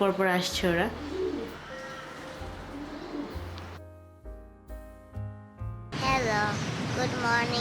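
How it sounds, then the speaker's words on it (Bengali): Several pigeons on a balcony in Bangkok coo in soft, repeated low calls. Talking comes before and after the calls. "সকাল থেকে দেখছি বেশ অনেকগুলো করে কবুতর আসতেছে"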